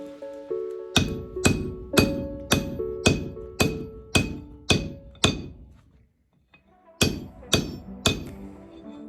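Rebar being bent over on an anvil in a first blacksmithing project, struck by a hammer in a steady run of about a dozen loud, ringing metallic blows, a short pause, then three more strikes.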